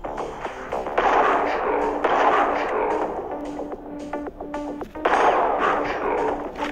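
Video-game gunfire rings out in several loud, sharp bursts of repeated shots, spaced by brief lulls, while the game's other sounds continue underneath.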